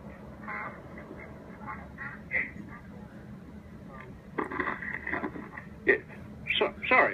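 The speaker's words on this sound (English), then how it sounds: "Sounded like you might have had a couple of ducks back there, quacking in the background there." A couple of ducks quack in the background of a phone call, with a faint steady hum throughout and a cluster of louder quacks near the end, some close together.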